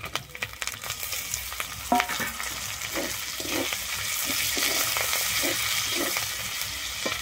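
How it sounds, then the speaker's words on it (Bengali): Chopped tomato and slit green chillies frying with ginger and garlic in a pan, a steady close sizzle with occasional stirring clinks and scrapes, no voices. "আমি এরপরে দিয়ে দিচ্ছি একটা কুচানো টমেটো।"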